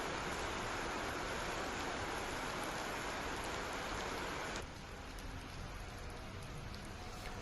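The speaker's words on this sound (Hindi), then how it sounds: "छिंदवाड़ा में तेज बारिश हुई" Heavy rain pours steadily in Chhindwara, a dense, even hiss throughout that drops to a slightly softer wash partway through.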